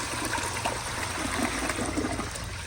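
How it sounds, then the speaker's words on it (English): A 2001 Crane Rexmont elongated toilet flushes with a steady, close rush of water that holds at an even level throughout, with no talking. "Here's a flush."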